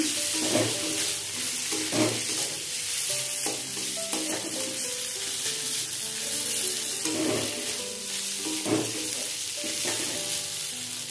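Ginger garlic paste being stirred into frying mutton curry in a pan, with a steady soft sizzle and repeated scraping stirs at intervals, close and fairly quiet, with no talking.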